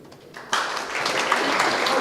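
An audience at a Mexican electoral tribunal event breaks into applause. It starts suddenly after a quiet moment and continues as a dense, steady wash of clapping.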